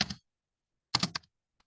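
Typing on a computer keyboard, two short clusters of quick, close key clicks separated by a pause, with one faint tap at the end.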